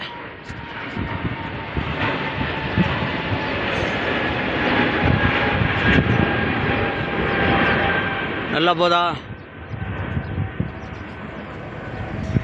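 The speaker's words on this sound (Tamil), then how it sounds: "2வது முறை வீடியோவில் ஃப்ளைட்டு பிடிச்சிட்டேன்." A fixed-wing airplane roars overhead near the airport in Bahrain, a loud steady engine rumble that fills most of the clip, with a short voice speaking briefly near the end.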